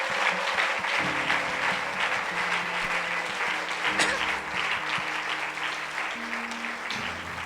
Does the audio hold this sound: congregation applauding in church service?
yes